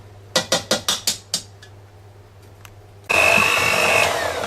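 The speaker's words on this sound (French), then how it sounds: "j'ai redonné un petit coup de mixeur, enfin de batteur" An electric hand mixer beats egg yolks into a maple syrup and pecan cake batter. A quick series of sharp clinks comes first, then the motor starts with a loud, steady whirring whine.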